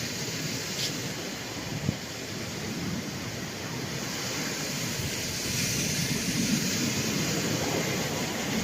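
Sea waves wash continuously onto a beach, a broad steady roar with wind buffeting the microphone and no voices.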